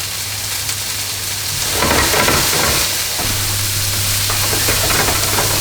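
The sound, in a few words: diced onion and cumin seeds sizzling in a hot pan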